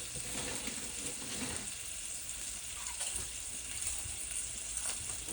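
Meat and rye bread fry in a pan with a steady, soft sizzle and crackle that holds evenly throughout at moderate loudness.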